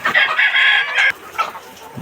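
Sonali hybrid chickens calling loudly nearby in a poultry shed, a drawn-out crow followed by shorter clucks and squawks.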